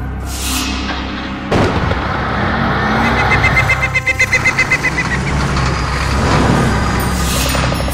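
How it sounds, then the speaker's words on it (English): A cartoon taxi's motor runs loud and close, opening with a sharp bang, then a rapid knocking, chugging rhythm in the middle before settling back into a steady engine roar, with no voices. "Taxi."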